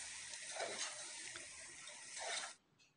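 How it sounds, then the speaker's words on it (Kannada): Hot water pours into a pot of egg biryani masala with fried eggs, a close, gentle splashing stream with a faint sizzle that swells near the end and then stops. "ಬಿಸಿ ನೀರು ಆ್ಯಡ್ ಮಾಡ್ಕೊತ ಇದ್ದೀನಿ"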